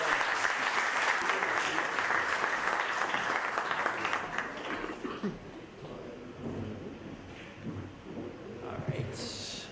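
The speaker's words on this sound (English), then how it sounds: "please welcome him on stage with an applause like you never applauded before" Audience applause at an Earth Day event welcomes a speaker to the stage, loud and sustained for several seconds, then thins into scattered claps, coughs and murmuring.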